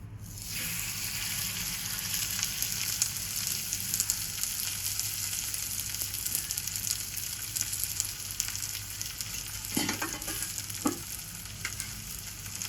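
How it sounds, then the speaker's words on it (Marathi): A millet thalipeeth flatbread fries on a hot griddle, giving a steady, close sizzle that runs throughout without voices, with a couple of brief scraping clicks near the end. "ते थालीपीठ मी तव्यावर घालून घेते."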